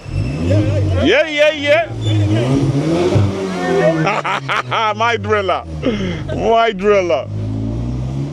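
A loud Audi S3 revs repeatedly on a Paris street, its engine rising and falling in sharp bursts under excited talking and laughter from people nearby.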